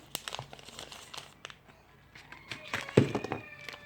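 A zodiac gift package is opened by hand, its plastic wrapper crinkling and rustling in scattered bursts, close and fairly quiet, with a sharper tearing crackle near the end.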